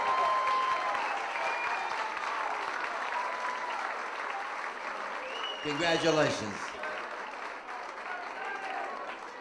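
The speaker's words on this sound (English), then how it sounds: "Give him a round of applause." Audience applause fills a hall during a 2001 Beach Shaggers Hall of Fame induction, a dense, steady clapping that holds throughout while someone speaks over it and the crowd noise swells briefly near the end.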